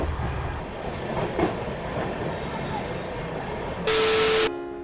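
A train rolls past nearby with high, sustained wheel squeals over a rumbling roar, ending with a loud horn-like tone before fading.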